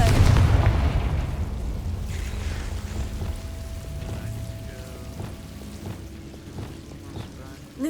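Confringo fire-blast spell explosions in Hogwarts Legacy, a heavy booming blast up front followed by a rumbling tail and scattered crackling bursts, with a voice casting the spell at the start.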